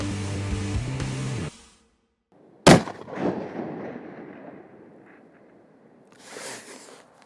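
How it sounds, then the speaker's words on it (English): A single sharp, loud long-range rifle shot cracks out after a fading tone, followed by a rumbling echo rolling across open country and a soft thump of impact a few seconds later. "I think I only need one shot here."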